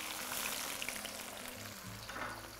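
Onions sizzling in a large amount of olive oil, a steady close-up fry hiss with soft low stirring bumps, no talk, for a Palestinian musakhan.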